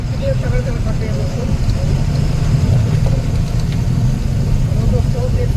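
An Indian truck rumbles over a badly potholed road with a low, steady engine drone throughout, and someone talks over the noise.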